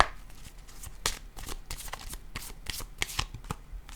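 A deck of cards being handled and shuffled, with quick riffling bursts and soft taps repeating through the clip, close and fairly quiet, with no talking.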